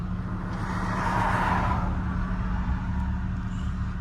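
A Jeep Wrangler JK with an aftermarket exhaust drives along, its engine a steady, fairly loud low rumble heard from inside the vehicle, with no talking.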